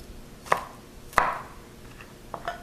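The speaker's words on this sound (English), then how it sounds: "Okay, so now I'm going to dice up my garlic." A knife dices garlic on a cutting board in a home kitchen, giving a few sharp separate chops spaced irregularly, close and fairly crisp against a quiet background.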